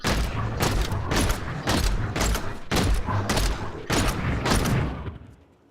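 Demon Hunter's evasive fire explosion shot in Diablo 3, a rapid run of punchy blasts in quick bursts of about three, loud and close, then a fading tail.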